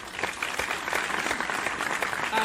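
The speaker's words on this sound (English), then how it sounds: "Give her a round of applause." A steady wash of audience applause welcomes a female singer to the stage at a Kingston music show; dense, continuous clapping at moderate distance throughout.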